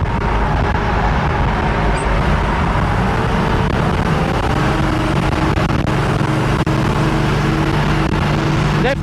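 A 1968 Chevy II Nova Super Sport with 4.56 rear gears cruising at 55 mph and about 2,900 RPM, a steady loud engine drone and road roar heard from inside the car throughout.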